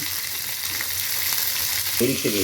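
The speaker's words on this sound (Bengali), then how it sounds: "আপাতত এখন ভাজা চলছে" Food sizzles in a pan while chicken soup is being made at home, a dense, steady frying hiss heard up close, with a brief voice breaking in near the end.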